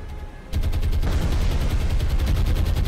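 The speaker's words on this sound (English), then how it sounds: "Two torpedoes hit into that one." Torpedo hits on a ship in the naval war game War on the Sea come as a sudden loud onset of dense, rattling explosive gunfire-like bursts that continue steadily for over two seconds without any talk.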